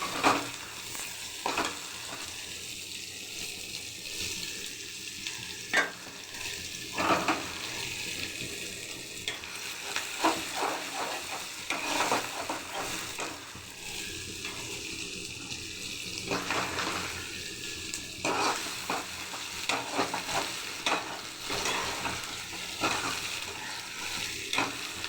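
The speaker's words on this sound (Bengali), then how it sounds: "পেঁয়াজ দিয়ে চিংড়ি মাছগুলো ভেজে নিচ্ছি।" Shrimp frying with onions in hot oil while being stirred, a steady sizzle broken by repeated scraping stirs and clinks of the utensil throughout, with no talking.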